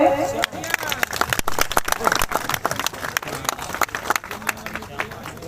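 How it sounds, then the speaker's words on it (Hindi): A crowd claps to welcome a guest at a farmers' fair held at an agricultural university, giving dense, uneven applause mixed with a background murmur of voices. "उनका तालियों से स्वागत करें।"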